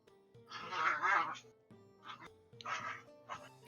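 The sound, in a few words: dogs play-fighting, barking and yipping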